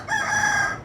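An Aseel rooster in Lahore crows once, close and loud, a single sustained, strained call with a brassy, buzzing tone that holds briefly before trailing off.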